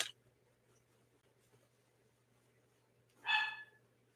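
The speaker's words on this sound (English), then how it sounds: "Rosie's barking" A single dog bark sounds from some distance indoors, one short, sharp yip standing out against a quiet room with a low electrical hum and faint handling noises, with no talking.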